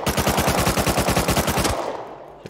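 Rapid automatic gunfire in Rust Console Edition, a loud, evenly spaced burst of about twenty shots, then a fading tail.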